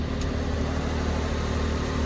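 A Honda Z PA1 kei car engine idles with its engine cover on, giving a steady, fairly loud mechanical hum with a constant low throb and no change in speed.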